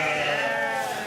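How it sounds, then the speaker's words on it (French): Boulonnais sheep, a local breed kept on the windy Côte d'Opale coast, give a single sustained bleat, loud and close, filling the whole moment with no voices over it. "Depuis 6 ans, il élève des moutons, une race locale, des boulonnais qui résistent au vent et au froid."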